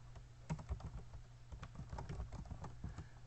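Quiet, close typing of code on a computer keyboard, a rapid uneven patter of light key clicks.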